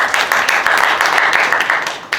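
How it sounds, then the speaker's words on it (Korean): Youth group at a high school summer church retreat applauds in a steady burst of clapping, loud and close, lasting a couple of seconds. "박수 줍니다."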